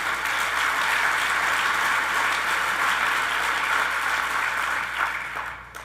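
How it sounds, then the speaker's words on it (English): A large crowd at the Phoenix State of the City address gives a sustained round of applause, dense and even clapping that tapers off near the end. "Give a big round of applause"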